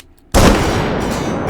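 A .50 caliber rifle fired in the VR shooting game H3VR, one sudden, very loud blast after a short quiet lead-in, followed by a long, heavy, booming tail.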